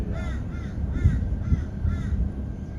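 A crow caws several times in a steady series outdoors over a rumbling background, the harsh calls moderately distant.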